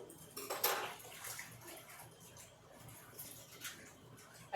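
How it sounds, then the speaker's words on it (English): A hand rinsed under running water at a kitchen farmer's sink, with splashing bursts as the stream hits skin and basin, fairly quiet and close, separated by short calmer stretches. "Let me rinse off my hand."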